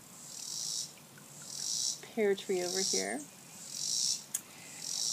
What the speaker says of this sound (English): It's summertime in the south, so the cicadas have started to sing. You can hear them.